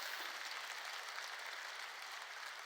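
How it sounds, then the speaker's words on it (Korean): A church congregation clapping during a sermon, a dense, even wash of many hands applauding that stays steady and moderately soft for a few seconds with no voices heard. "이럴 땐 다 박수를 쳐야지."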